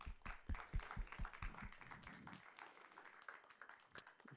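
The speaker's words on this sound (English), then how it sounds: "So please give him a round of applause to Frederik Vanhoutte" Scattered audience clapping for a speaker at a generative art lecture, faint and thinning out over a few seconds into quiet room noise.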